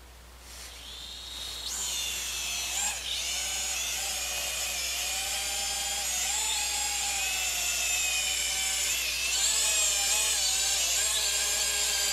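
Small camera drone spinning up and lifting off, a high whining rotor buzz that swells after a second and holds steady and close as it hovers and flies around.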